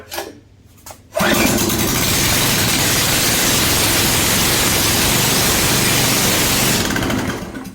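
A hydraulic log splitter's small engine, exhaust removed, roars to life after a brief quiet start, running loud, raw and rattling without muffling, then cuts back down near the end.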